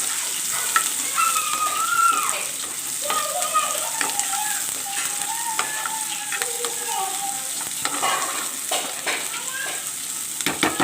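Onions fry in two or three spoons of oil for a restaurant-style spaghetti rice sauce, a dense, steady crackling sizzle with occasional stirring clicks, while a voice murmurs faintly underneath.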